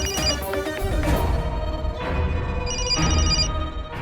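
A telephone rings for an incoming call, its repeated electronic ring pattern sounding loud over a busy background of dramatic music.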